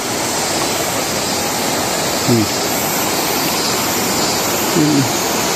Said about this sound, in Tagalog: Ganda ng ilog guys.